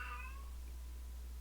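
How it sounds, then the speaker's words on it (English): A cat meows a few times in the background, faint and brief, over a steady low hum with no talking. "I do apologize if you hear my cat in the background."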